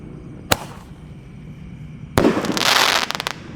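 Roman candle firework, 1.2 inch, firing at night: a sharp single pop, then a louder blast followed by a crackling hiss and a quick run of small bursts, close by with no talk.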